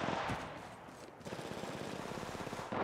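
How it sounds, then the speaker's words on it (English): Rapid automatic gunfire in the Apex Legends Mobile video game, dense loud bursts of shots one after another with a brief lull partway through and a burst at the end. "Opening fire."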